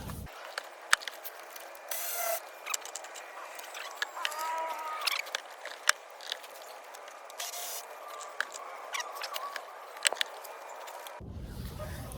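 Repeated ratcheting clicks and metallic tool noises in short bursts, close by, with brief pauses between turns, as a ratchet removes four bracket bolts from an Integra Type S charge pipe.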